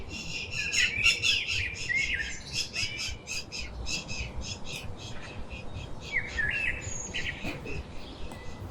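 Many birds chirp and squawk at dawn around five in the morning in Haryana, a busy overlapping chorus of short calls over steady background noise, with no talking.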